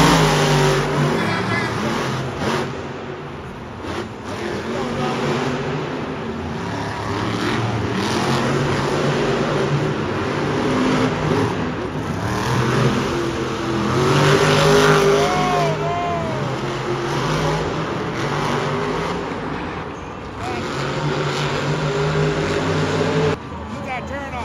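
Monster trucks roar through a semi-final race inside a large stadium, their engines droning and revving continuously for the whole stretch amid loud crowd noise and an announcer's voice.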